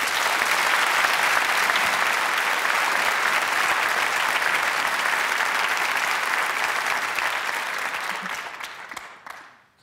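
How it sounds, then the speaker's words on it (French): An audience applauds at an evening storytelling event, dense and steady clapping that holds loud for most of the stretch before thinning and dying away at the end. "Merci d'applaudir Lucie Retaille."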